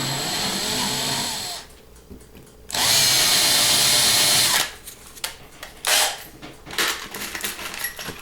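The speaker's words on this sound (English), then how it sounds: "Start by drilling it out." A power drill bores out the rivet on a 1957 Chevy Bel Air Matchbox toy car, two loud, sustained whining bursts separated by pauses, followed by shorter stuttering spurts and small handling clatter up close.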